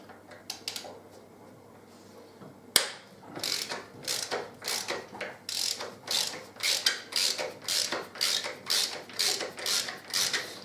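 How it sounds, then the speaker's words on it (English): A ratchet clicks rapidly in repeated bursts while backing out Torx 45 bolts on a Harley-Davidson Deuce motorcycle, the pawl ratcheting loud and close after a sharp knock, alone with no talk. "I'll just take the bolts out."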